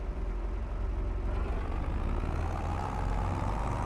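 A heavy tractor engine in Farming Simulator 25 rumbles steadily at idle, a low continuous drone with no voices, close and constant throughout.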